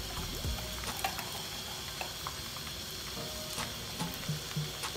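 Spices and chicken frying in a pan for biryani, a steady soft sizzle with occasional stirring scrapes and clinks, fairly quiet and with no talking.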